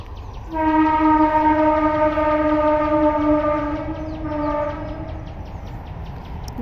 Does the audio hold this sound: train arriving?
yes